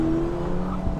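A Ferrari Portofino M on the move, its exhaust giving a steady, fairly loud engine drone with a low, even tone that holds constant through the brief moment, no voices.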